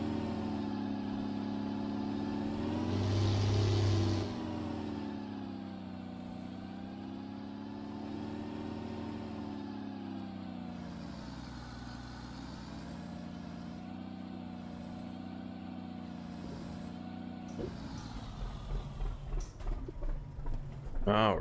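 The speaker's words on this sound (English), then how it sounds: "There is the build and drive on the John Ruda Peterbilt 389" A Peterbilt 389 truck engine in American Truck Simulator holds a steady low drone while driving, with a brief louder swell early on and small revs near the end. Someone talks over it.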